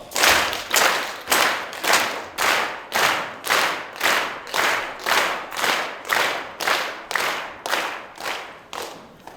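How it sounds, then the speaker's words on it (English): A school winter band concert audience claps in unison, steady rhythmic claps roughly every half second, loud and close, with no talking. "I'm going to clap my hands. Could you clap along with me?"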